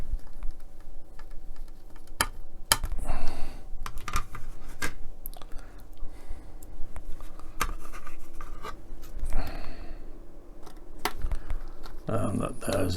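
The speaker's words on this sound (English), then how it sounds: "Now we can fit that from underneath with 2 EP screws." Two EP screws are driven from underneath into the thrust block of a Hachette Build the Titanic model, giving small scattered clicks and ticks with light handling rustle over a quiet background while a voice speaks at times.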